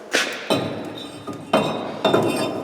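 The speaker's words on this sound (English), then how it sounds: "Install our brake rotor." A brake rotor being fitted on a Ford Explorer during suspension work, with four or five sharp metallic clinks and knocks in quick succession, close and fairly loud, with no talk.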